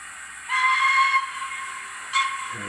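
A high, steady model steam locomotive whistle blows for about a second and a half, then gives a shorter second toot over a constant background hiss.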